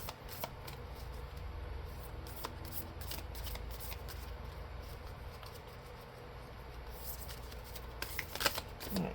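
Oracle cards being shuffled by hand, a soft continuous riffling and sliding of card stock up close, quiet and steady with a few sharper flicks toward the end, alone without speech.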